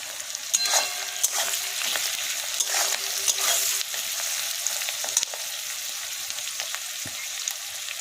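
Capsicum frying for chili chicken in a pan, a continuous close sizzle with bursts of stirring and scraping as the pieces are tossed, fairly loud and without any voices.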